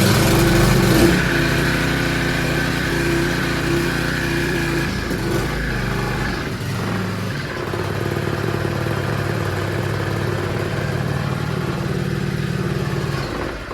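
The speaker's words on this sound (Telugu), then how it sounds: "చౌక్ వేసుకొని ఇంజిన్ స్టార్ట్ చేస్తాను." A small petrol engine with the choke on runs loudly and close after a rope-pull start, holding a steady, buzzing drone with slight wavers in pitch.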